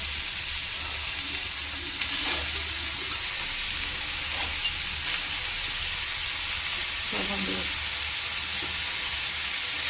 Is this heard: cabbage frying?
yes